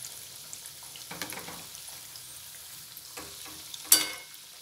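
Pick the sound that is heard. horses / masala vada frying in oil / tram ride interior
masala vada frying in oil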